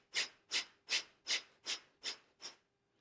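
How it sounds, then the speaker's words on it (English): Kapalabhati yoga breathing: seven quick, forceful exhalations through the nose at an even rhythm of about three per second, each a short breathy puff, close and clear with no talk. "So you're taking one big inhalation and then very quick exhalations."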